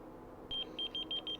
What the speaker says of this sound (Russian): вот так пикает наш брелочек